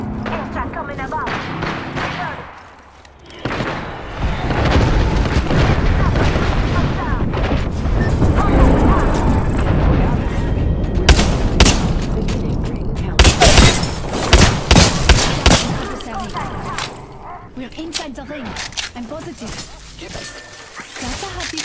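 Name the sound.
airstrike explosions in Apex Legends video game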